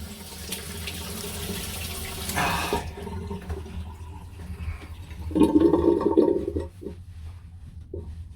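Safety razor rinsed under a running tap, steady splashing water that cuts off, followed by a brief burst of sloshing and a few drips, fairly quiet.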